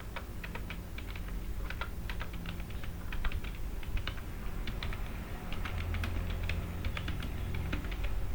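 Quick, light keystrokes on a computer keyboard while typing a party ledger name into Tally accounting software, clicking in brisk irregular bursts over a low steady hum, close and fairly quiet.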